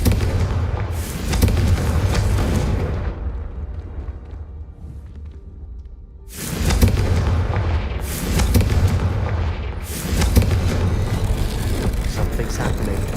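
Confringo fire spell blasts from the video game Hogwarts Legacy: three loud, booming explosive bursts, the first fading into a quieter rumble before two more sharp blasts follow in quick succession, all up close.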